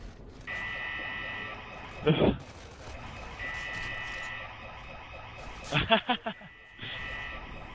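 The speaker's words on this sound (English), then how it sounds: "As the fire alarm was pressed" A fire alarm buzzes steadily and loudly during a gaming tournament broadcast, cutting out briefly twice. Loud bursts of noise interrupt it.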